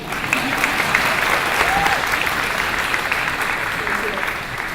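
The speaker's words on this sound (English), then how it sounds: "She says she's nervous, so clap again," An audience at a convocation claps steadily and loudly throughout, a dense sustained round of applause with no break and no one speaking over it.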